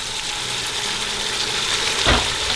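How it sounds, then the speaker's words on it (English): Tomatoes fry in a pan with a steady, close sizzling hiss, and a brief clatter of utensils comes near the end. "And now keep frying the tomatoes till the tomatoes are nice and mushy."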